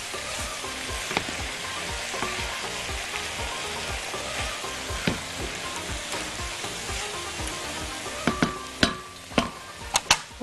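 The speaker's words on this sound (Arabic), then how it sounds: "اللحمه بقى تستوي على نار هاديه علشان ما تبقاش بتشد معاكي" Beef kebab meat caramelizes in a pot over low heat with no added liquid, giving a steady, close hiss throughout. Sharper utensil clacks come through near the end.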